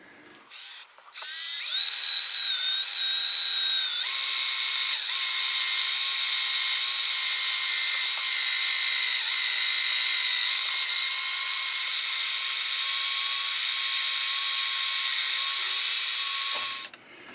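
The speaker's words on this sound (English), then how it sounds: "So for simplicity, I'm just drilling 3/16, and I'm using Terry's cross drill setup" A power drill bores 3/16 holes through a T-bar carriage stop held in a cross drill setup, giving one close, loud, steady high whine of about fifteen seconds that starts and stops abruptly.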